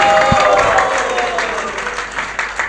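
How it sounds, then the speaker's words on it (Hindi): A festival audience claps for a drama director in a short, loud burst of crowd applause with some background voices mixed in. "एक बार जोरदार तालियां हो उनके लिए"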